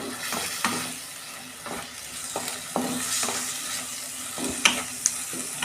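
A spice masala with Kashmiri chilli powder and garam masala fries in a pan for chicken masala, giving a continuous sizzle broken by repeated close scrapes and knocks of a spoon stirring every second or so.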